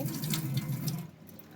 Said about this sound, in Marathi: ती डायरेक्ट बोर चालू केली की जागेवर पाणी येते